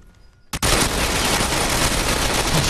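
After a quiet half second, a sudden burst of sustained automatic gunfire from Ghost Recon Phantoms fills the clip, loud and dense and continuing without a break.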